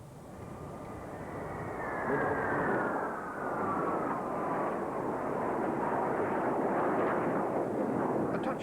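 A loud jet roar sweeps past with a falling whine as the Italian Frecce Tricolori aerobatic team flies overhead at the 1981 International Air Tattoo, broad rumbling noise sustained throughout.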